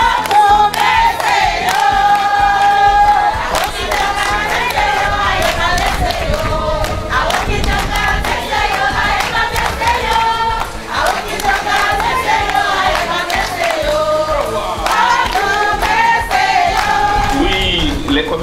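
Market traders in Garoua cheer loudly during the mayor's visit after a fire at the fish market, a sustained roar of shouting and high, ringing cries that fills the whole stretch with only brief dips.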